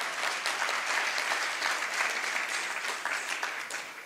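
Audience applause for a woman who has just performed at a devotional gathering, a steady dense clapping that stays loud and even for the whole stretch, with no voices over it.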